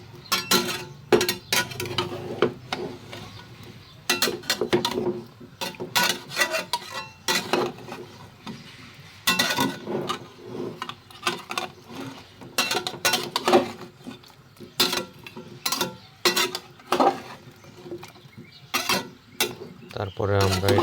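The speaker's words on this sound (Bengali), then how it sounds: "দিয়ে আমরা এটাকে ভালো মতো কষিয়ে নিব।" Chopped vegetables and chicken being stirred in a pan for a thin curry with pumpkin and radish: irregular scraping and clinking of a utensil against the pan, close, in uneven bursts over about twenty seconds.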